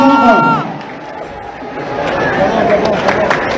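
Crowd at a concert in honour of President Laurent Gbagbo, applauding and cheering together at a loud, steady level that eases a little before swelling again, with a babble of voices mixed into the noise.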